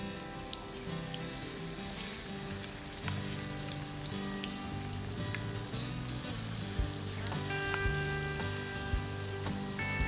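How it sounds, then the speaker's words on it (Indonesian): Banana pieces coated in batter fry in hot oil, giving a steady, dense sizzle and crackle with occasional louder pops, close and continuous throughout with no talking. "sekarang kita goreng pisangnya"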